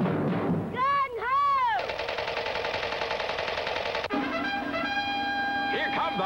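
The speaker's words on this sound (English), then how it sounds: "Every shot, every battle sound was from the Sound of Power military and Western rifles by Marx." Vintage Marx Sound of Power military and Western toy rifles produce loud, continuous mechanical battle sounds: sweeping siren-like whoops up front, then a sustained rattling machine-gun buzz that shifts tone partway through.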